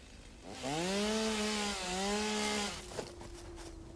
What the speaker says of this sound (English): let's make this chainsaw real quick and get this thing out of the way.